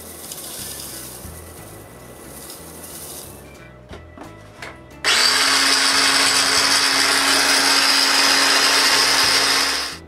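Power grinder crushing shellac flakes for a woodworking finish: quiet workshop background, then the motor starts abruptly and runs loud and steady, a harsh whirring grind lasting several seconds until it cuts off.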